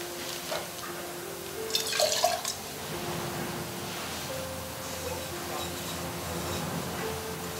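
Hot water poured into a tea bowl during a Japanese tea ceremony, heard as a brief trickle and splash amid a quiet room, with faint background hum and soft movements.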